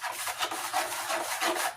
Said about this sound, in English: take your 6-inch knife and just mix it up